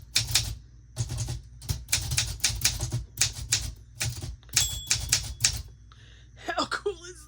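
Manual typewriter keys struck in quick rhythmic bursts, close and crisp, with a pause before a carriage push and bell-like ding near the end.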